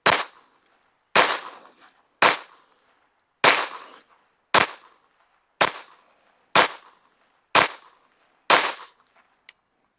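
A Taurus TX22 pistol fitted with a Tandemkross lightened trigger spring and accelerator fires nine sharp, loud shots, one at a time, each a crisp crack with a short ringing tail, spaced about a second apart.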